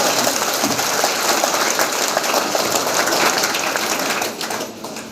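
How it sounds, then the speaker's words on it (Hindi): Loud, dense clapping from a large seated audience at a gathering, a continuous crackling roar of hands that thins out and fades near the end. "तो एक बार तालियों के माध्यम से दिखा दीजिए जय आरसीएम"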